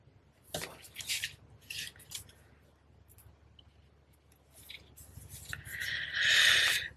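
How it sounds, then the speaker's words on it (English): Scissors snip through a strip of cardstock during card making, giving a few close, brisk cuts and rustles that end in a louder, sustained slicing sound. No one speaks. "you can just cut that off."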